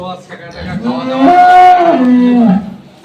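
A dairy cow on a farm in Saidpur, Nilphamari, lets out a single loud, drawn-out moo close by, rising and then falling away.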